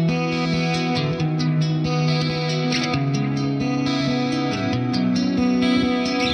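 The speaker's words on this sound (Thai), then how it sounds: "ทีนี้เดี๋ยวผมจะให้ลองฟังกับเอฟเฟกต์ครับแต่ว่าผมจะเปิดใส่คอรัสดีเลย์แล้วก็ร" Acoustic guitar played through chorus, delay and reverb effects, sustained ringing chords with a wide, washy shimmer, steady and fairly loud with no voices.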